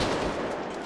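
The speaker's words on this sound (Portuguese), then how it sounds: "Troca de tiro, Zé, troca de tiro" Gunfire exchange in a GTA V FiveM police roleplay session, a dense continuous rattle of shots filling the whole second at steady loudness.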